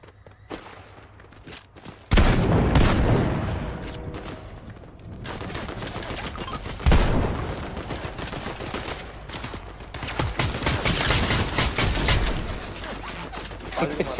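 Shotgun fire in the video game Fortnite, heavy bursts of gunshots and rapid volleys that stay loud and close across the whole stretch, with scattered sharp blasts over ongoing game action.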